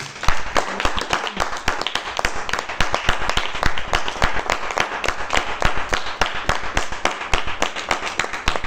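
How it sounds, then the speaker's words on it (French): A congregation at a church revival service claps together in rapid, dense, continuous applause, loud and steady throughout without pause. "Applaudissons pour le Seigneur."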